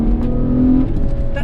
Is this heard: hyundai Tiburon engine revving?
yes